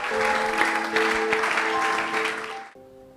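A church congregation at a Sunday worship service claps together in loud, continuous applause that stops abruptly, leaving a sustained organ or keyboard chord ringing underneath and afterward.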